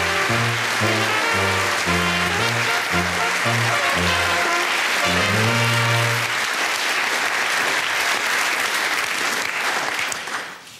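A studio audience on the Swiss TV comedy show Giacobbo / Müller applauds loudly and steadily as guest Joachim Rittmeier is welcomed, with a band playing over the first part before the clapping trails off at the end.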